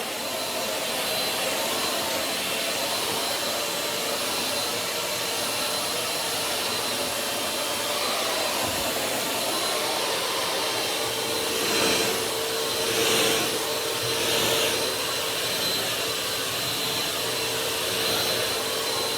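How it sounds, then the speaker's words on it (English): A vacuum cleaner runs over a bed with a steady loud whine and airflow roar, holding constant throughout with slight surges in pitch near the middle, no voices. "This vacuum's giving me trouble."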